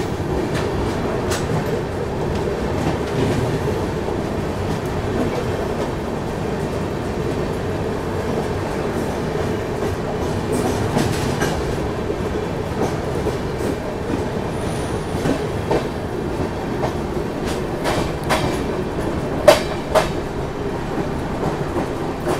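Sampoorn Kranti Express, an Indian long-distance train, rumbles steadily along the rails, a continuous loud roar with occasional sharp clanks and metallic clicks from the wheels and couplings, with no one speaking.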